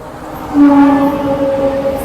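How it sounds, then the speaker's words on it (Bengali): A goods train runs through a railway station without stopping: a loud, steady rumble of wagons with sustained tonal ringing over it, with no talk. "থ্রু ট্রেনটা মালগাড়ি ছিল"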